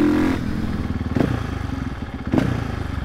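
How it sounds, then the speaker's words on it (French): KTM 450 EXC-F supermoto from 2025, its single-cylinder engine popping and burbling close by with two sharp throttle blips, rattling and loud, alone. "J'ai envie de me cacher après chaque coup de gaz, j'ai honte un peu tellement ça fait du bruit."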